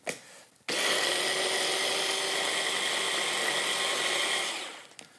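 A food processor whizzes olive oil and salt into a paste, a loud, close, continuous whirring roar that starts abruptly and runs for about four seconds before winding down.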